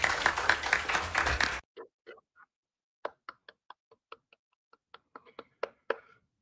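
Sparse, scattered claps from a few people follow a short burst of speech; the claps come irregularly and fairly close, with silence between them.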